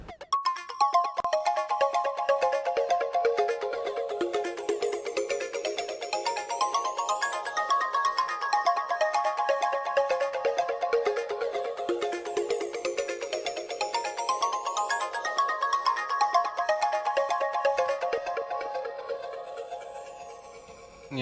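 A synth pad layered with a background loop, recorded on an MS-2000 synthesizer: bright, bell-like tones in rising and falling sweeps and repeating arpeggiated patterns, steady and moderately loud, with no voices.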